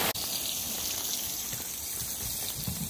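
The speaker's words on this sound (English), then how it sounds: "we got rained out pretty good" Heavy rain pours down on a fishing boat on Lac Seul near Ear Falls, Ontario, a dense steady hiss of water close by with a few sharper splashes and no talk.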